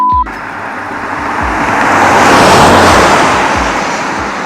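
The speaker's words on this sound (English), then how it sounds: "this car's going by fast right now, so I don't know if you can hear me" A car on a road near a hiking trail rushes past fast and loud, its roar swelling to a peak midway and then slowly receding as road noise lingers.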